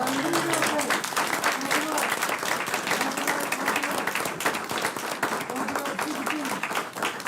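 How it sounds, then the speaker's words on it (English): Sustained audience applause fills a city council chamber honouring local playoff coaches, dense and steady clapping throughout, with faint voices mixed in beneath it. "I want to give them a big round of applause."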